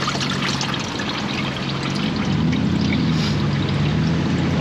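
Fluid and rust drain out of a 1970 Ford Falcon engine in a steady, close pouring trickle of liquid that continues throughout, with no talk.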